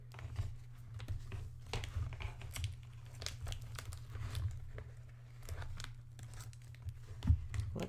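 Masking tape being slowly peeled off the edges of a finished watercolor painting of white cherry or apple blossoms, close crinkling and tearing with soft crackles, no talking.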